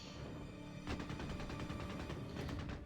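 Rapid gunfire from a .50 cal machine gun mounted on a half-track in the Company of Heroes 3 strategy game, a sustained burst of evenly spaced shots starting after a brief lull under battle ambience.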